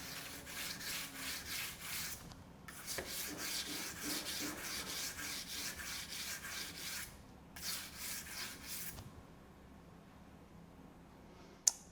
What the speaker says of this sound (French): vous allez vraiment effleurer la pierre. Quand votre lame elle commence à vraiment trancher, juste effleurer. Pouvoir affûter au bruit.